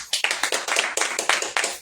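Audience clapping at a church gathering, a burst of sharp, fairly dense handclaps in uneven rhythm lasting a couple of seconds, close and clear with no talk.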